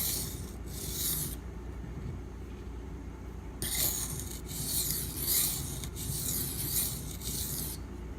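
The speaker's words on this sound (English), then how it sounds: "We're just gonna sharpen an existing bevel on this new stone." A knife is sharpened on a Dan's Whetstones aluminum oxide stone. Quiet, raspy scraping strokes come in a short burst, then pause, then return in a longer run of rhythmic back-and-forth grinding, close up and without speech.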